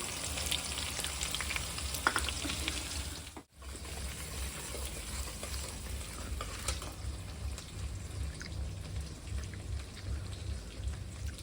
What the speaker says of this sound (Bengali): পেঁয়াজ রসুন সব আমি বেশি ভাজবো না